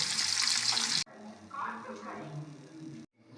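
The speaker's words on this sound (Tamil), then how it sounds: "எண்ணெய் காய்ந்ததும் அடுப்பை மிதமான தீயில் வைத்து ஒவ்வொரு துண்டுகளாக போட்டு பொரிக்கவும்" Pieces of tuna fish fry in oil, sizzling and crackling steadily, with a sharp hissing burst at the start that settles into a softer, continuous fry.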